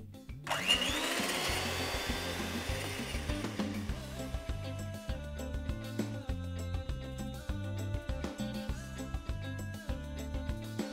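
An ordinary electric hand mixer whips a batch for egg-free lenten meringues, making a fairly faint whirring motor whine with regular rhythmic pulses as the beaters churn the bowl.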